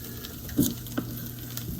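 A pan of bourbon chicken juices sizzling, a low steady fry with a couple of brief louder pops or spatters.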